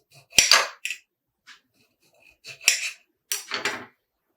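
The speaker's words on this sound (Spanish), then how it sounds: "Vamos a cortar los cherries." A knife cutting cherry tomatoes on a board for a squid salad, a few crisp, close clicks and taps in separate small bursts with quiet gaps between them.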